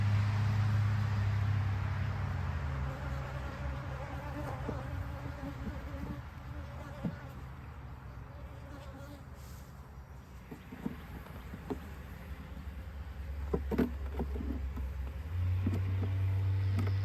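Honey bees from a laying-worker hive hum in a continuous low buzz close by, with a steady droning swarm sound and a few faint clicks, no talking.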